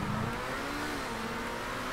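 A car engine in GTA 5 Online revs at a steady, sustained droning pitch, loud and close, with no talk over it.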